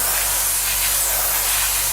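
An aerosol spray can hisses steadily and close up while coating parts of a Trumpeter 1/32 F-14D Tomcat scale model kit, one unbroken two-second burst with nothing else audible.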